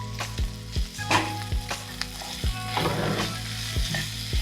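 Chili powder masala fries with fish in a pan, a bright sizzle running under regular thumping stirs roughly every half second, close and moderately loud, no talk.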